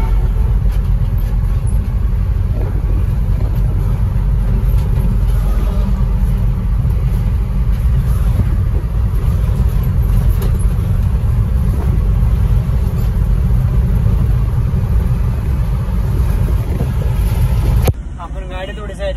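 Car driving on a road from Mumbai, heard from inside as a loud, continuous low rumble with buffeting wind noise that runs unbroken for most of the stretch before cutting off sharply near the end.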